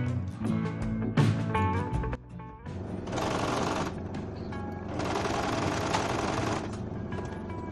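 A sewing machine stitches a fabric baby bib in rapid mechanical bursts, stopping and restarting several times with short pauses between runs of stitching, close and fairly quiet.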